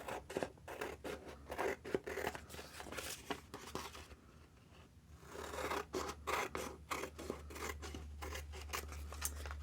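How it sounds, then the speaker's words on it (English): Scissors cutting cards out of old calendar paper, rapid repeated snips and crisp paper rustles in irregular bursts with a short pause midway, close and fairly quiet over a low steady hum. "So we're going to cut it out."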